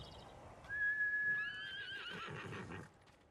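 A horse in the video game Ghost of Tsushima gives a clear whinny that rises and shakes for about two seconds, followed by snorting and faint hoof clops, with no talk over it.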